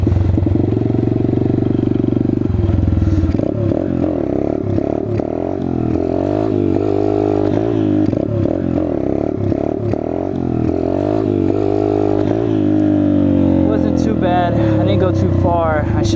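Chinese dirt bike engine revving hard and steadily through a wheelie attempt, loud and close, with the pitch rising and falling as the throttle works and some clattering near the end.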